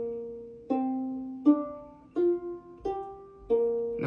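Single plucked notes on a stringed instrument step through the Ethiopian Tizita scale, six clear tones played one after another at a slow even pace, each ringing with bright overtones, close and alone.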